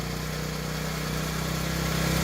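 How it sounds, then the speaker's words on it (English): A TaoTao 50cc Chinese scooter engine, bought not working and suspected of dirty fuel and a clogged fuel filter, runs with a steady, loud buzzing drone that rises slightly toward the end, close by, with no voices. "There's that revving I was talking about before"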